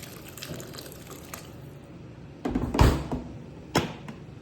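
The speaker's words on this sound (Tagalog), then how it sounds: "pwede na natin siya lagyan ng sabaw, tubig" Water is poured into a pot for chicken tinola soup: a short, loud splashing gush about halfway through, then a single sharp knock, over a quiet kitchen background.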